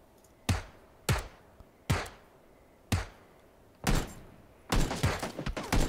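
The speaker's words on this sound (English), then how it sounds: "Someone's shooting." PUBG gunfire, five sharp single shots cracking at roughly one-second intervals, each with a short echoing decay, then a faster cluster of rapid shots near the end.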